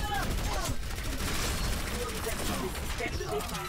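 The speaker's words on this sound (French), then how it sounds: "Voilà pourquoi j'aime bien, parce que je peux mitrailler, j'ai plein de balles." Rapid machine-gun bursts in the Overwatch video game, dense and continuous, mixed with other gunfire and game effects under a talking voice throughout.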